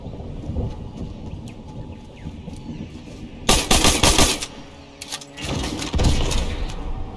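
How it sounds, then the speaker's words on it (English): Bombs blasting in the video game Fortnite, two loud bursts of booming, crackling explosions breaking through a quieter rumbling background, the second burst lasting longer. "They throwing bombs."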